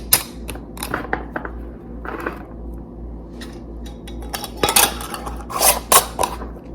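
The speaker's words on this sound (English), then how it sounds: "then we'll screw on the lids" Lids screwed onto jars of garden produce, scattered metallic and glassy clicks and scrapes, some quick bursts of sharper rattling, close with no speech.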